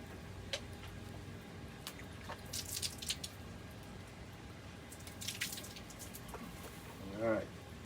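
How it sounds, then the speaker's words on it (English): Water from a tap runs and drips over hands being rinsed, quiet and close, with a few brief splashes and a louder gush near the end. "rinse off my hand again"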